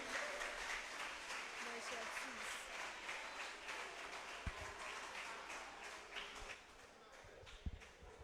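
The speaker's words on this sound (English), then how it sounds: "Please clap for them." Audience applause for contestants at a national quarter-final elimination event, a faint, steady patter of clapping that carries through the whole stretch, with a couple of louder knocks.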